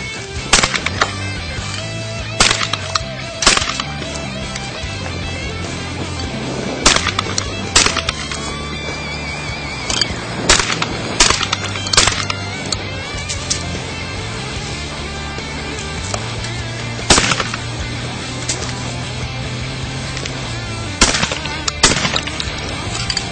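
An Extrema 2 shotgun fires a series of sharp, loud reports spaced irregularly over background music, each blast standing out clearly without any talking.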